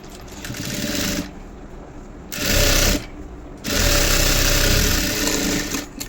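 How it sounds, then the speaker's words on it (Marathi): A sewing machine runs in three bursts while stitching blouse fabric, each a steady, close mechanical whir lasting one to two seconds, with short quiet pauses between them. "डायरेक्टली शिलाई लावली तरी चालेल, किंवा हा फॅब्रिक याच्यावरती ठेवून अशी शिलाई लावली तरीसुद्धा चालेल."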